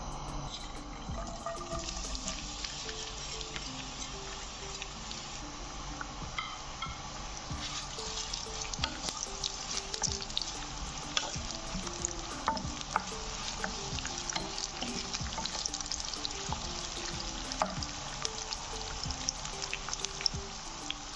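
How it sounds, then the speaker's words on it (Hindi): Onion frying in hot oil for a turai daal with tadka, a dense, steady close sizzle and crackle that runs unbroken throughout, with faint scraping and occasional light taps from stirring. "जैसे हमारा तेल गर्म होता है हम इसमें प्याज डाल देंगे।"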